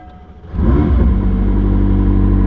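A McLaren 600LT sports car's engine cranks and fires up loudly after a brief quiet moment, then settles into a deep, steady, powerful idle rumble close by.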